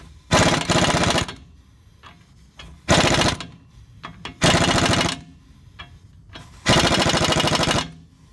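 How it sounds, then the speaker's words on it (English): Bursts of a pneumatic impact wrench snug the lower ball joint nut on a 2008-2013 Chevrolet Silverado 1500 4x4, with four loud rattling runs of about half a second to a second, separated by short pauses and faint clicks. "we'll go ahead and snug up our lower ball joint"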